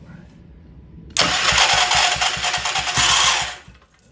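A Troy-Bilt Pony rototiller's small engine, previously hard to start with its choke fully closed, kicks over suddenly and runs loud and close with a rapid chugging beat for about two seconds before dying back down.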